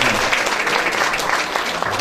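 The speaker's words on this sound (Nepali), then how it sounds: "राम्रो ताली बजाइदिनु भयो र अझै पनि अलिक ठुलो ताली बजाइदिनुहोस् न।" An audience at a school event with students claps continuously, a loud, dense wash of applause that holds steady throughout with no break.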